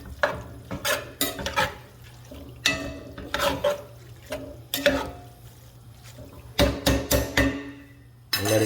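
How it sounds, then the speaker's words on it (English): Crawfish étouffée being stirred in a pot, a spoon scraping and sloshing through the thick mixture in repeated bursts over a low, steady sizzle, close and fairly loud with no talking. "Continuing to stir it."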